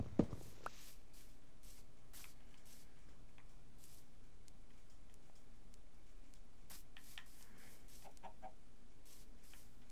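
Chickens in the Minecraft video game give a few faint, scattered clucks, brief separate calls spread through the stretch over a quiet, steady background.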